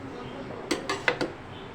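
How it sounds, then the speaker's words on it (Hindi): A spoon scraping and knocking against a pot while boiled chana dal and sugar are mixed for a sweet chana dal khichda, four short metallic clinks in quick succession over a quiet kitchen background. "अब हम इसे खूब अच्छी तरह मिक्स कर लेंगे, चीनी और दाल।"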